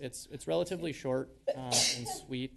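A single short sneeze cuts in during a city council meeting in Carver, briefly interrupting a man's steady speech, which carries on before and after it.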